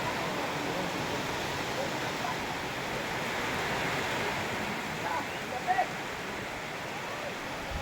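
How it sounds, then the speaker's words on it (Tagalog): Steady, dense hiss of heavy rain pouring down on a mountain, a continuous wash of noise with no pauses and a brief faint knock near the end. "Malakas ang ulan ah."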